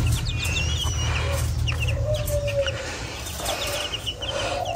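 Serama hens cluck and chirp nearby, with short squawks over a steady low background hum.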